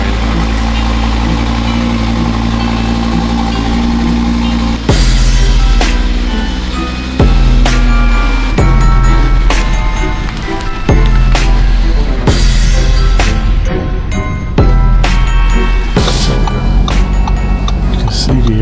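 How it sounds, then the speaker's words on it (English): A 2022 Audi RS3 with an AWE exhaust and its valves open, a deep, steady engine rumble running throughout with sharp bursts and revs, under people talking. "This is with the valves open right now."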